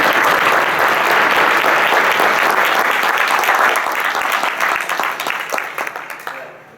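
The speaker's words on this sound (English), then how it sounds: "maybe we can give him one more round of applause" Loud applause from an audience at a physical therapy class gathering, dense clapping that holds steady and then fades out over the final seconds.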